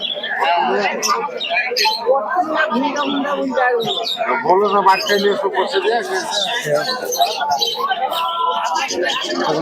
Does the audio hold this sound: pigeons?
yes